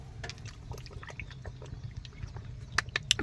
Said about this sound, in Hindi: पानी पी लें भाई, गला सूख गया था।